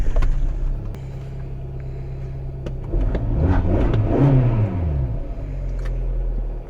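Hyundai i45 car pulling away, engine idling low then revving up with a rising rumble as it accelerates, holding a steady drone afterward.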